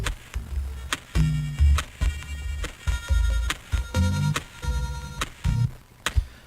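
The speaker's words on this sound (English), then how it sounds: "stretched it out and cut the pitch down to -12 down in pitch" Pitched-down drum loop sample, time-stretched and high-passed, playing alone as a slow, chopped groove of heavy low hits and bright clicky transients with smeared, grainy texture throughout.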